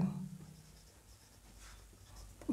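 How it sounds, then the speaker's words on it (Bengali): Someone writes a sentence on a board, making a faint, soft scratching stroke by stroke in a quiet classroom, with a brief louder knock at the end. "ধরে নাও আমি একটা বাক্য লিখছি"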